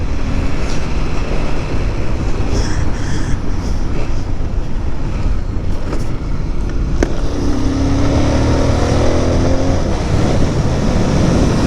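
A Pulsar 220F motorcycle being ridden on the road, its engine drone buried in heavy wind rush, with a few brief clicks and a passing tonal whine near the end.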